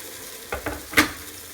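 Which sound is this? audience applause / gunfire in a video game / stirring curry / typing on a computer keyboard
stirring curry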